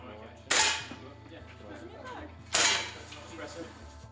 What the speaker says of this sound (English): a shooting range inside a secondary school